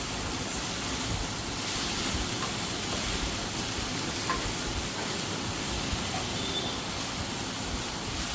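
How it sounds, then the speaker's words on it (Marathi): Okra stir-fries on high flame in a pan, giving a steady, dense sizzle that stays loud and even throughout, close up, with no talking. "आता ही भेंडी आपण व्यवस्थित परतून घेऊया"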